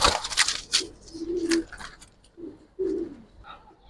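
Giribaz and colored pigeons coo in low, repeated murmuring bursts, mixed with sharper bird chirps and rustling, near and moderately loud.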